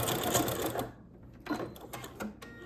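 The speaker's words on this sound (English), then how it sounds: "This end, I'm gonna back stitch, lock everything in nice and tight," A sewing machine back stitches the hem of a color guard flag in short bursts of rapid chatter, broken by a brief pause and some quieter clicks.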